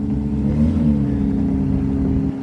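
Porsche GT3 RS with an aftermarket exhaust revving at a car meet, a steady loud throaty drone that swells and eases over a couple of seconds before cutting off, heard up close.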